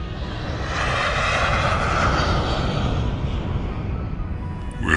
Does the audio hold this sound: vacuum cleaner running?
no